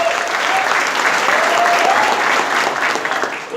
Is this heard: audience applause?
yes